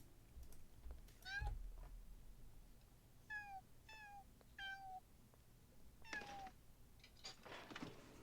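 Several cat meows from a video game, four or five short rising-falling calls spaced a second or so apart over quiet background with faint clicks.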